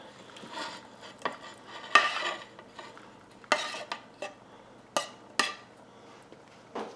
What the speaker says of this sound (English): Gonna give this a big stir.